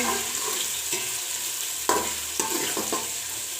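Tomatoes softening in a pan for an aloo baingan dish fry with a steady close sizzle, broken by a few sharp scraping knocks of a spoon stirring against the metal.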